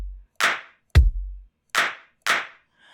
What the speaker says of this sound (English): let's say I want to reverse this clap